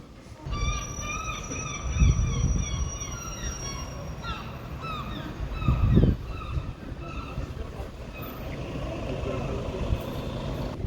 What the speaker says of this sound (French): on entend les mouettes dans le 12e